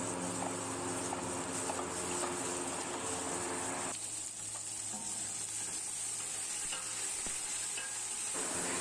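Chicken frying with browned onions in a pan sends up a loud, dense, steady sizzle, close and continuous, which briefly drops in intensity partway through as the pieces go in, then carries on crackling.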